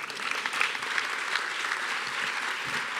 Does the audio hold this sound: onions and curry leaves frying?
no